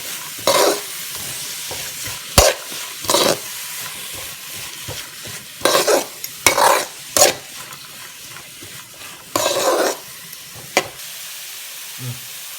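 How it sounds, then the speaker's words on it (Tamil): Onions with salt sautéing in a pan, with loud intermittent spatula strokes scraping and stirring over a faint, continuous sizzle, spaced out by brief pauses. "கோல்டன் ப்ரௌன் ஆகுற வரைக்கும் நல்லா வதக்கிட்டே இருங்க."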